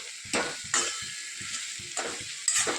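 Vegetables stirred with garam masala, coriander-cumin powder, asafoetida and salt in an iron tava: a soft steady sizzle with several sharp scraping strokes of the spoon against the pan, close up.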